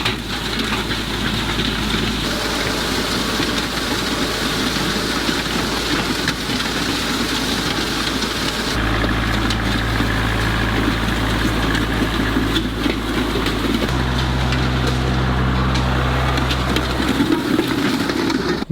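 A tractor engine runs steadily at close range on a farm field while cutting a fire break, a continuous low idling rumble whose pitch and load shift partway through, with no talking.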